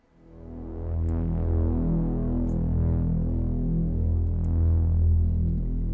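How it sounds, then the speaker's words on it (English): Layered synthesizer strings treated with a chorus effect hold steady sustained chords, swelling in after a soft start and staying loud and full throughout, with no voices. "Now I'm gonna add a chorus. Gonna add some chorus to this."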